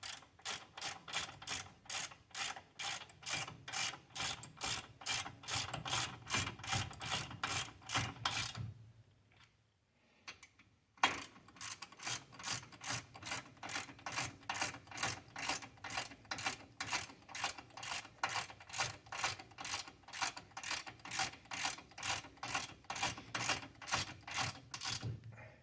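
A ratchet tightens brake caliper bolts on a 1991 Chevy S10 during a front brake overhaul, giving long runs of rapid, even clicks close by, with one short pause partway through.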